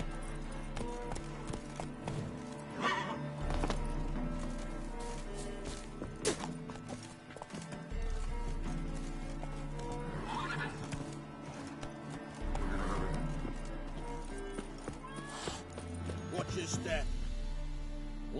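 Roach, a horse in The Witcher 3, clip-clops at a trot with an occasional whinny, hoofbeats steady and fairly close under background game music and sound effects.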